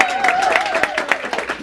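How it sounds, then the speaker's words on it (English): A crowd at a veterans outreach forum breaks into brief, loud applause with a thick wash of clapping and a sustained tone running underneath. "Let's give him a big round of applause."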